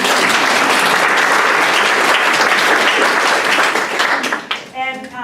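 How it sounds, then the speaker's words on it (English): Loud, dense applause from an audience cheering a husband in recovery from alcoholism, continuous clapping filling the space before tapering off as a voice begins to speak at the end. "Yeah, you should clap for him."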